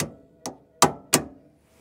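Four sharp metallic hammer blows, close and loud, knocking the lower control arm off a C6 Corvette during a suspension job, spaced irregularly with short ringing decays.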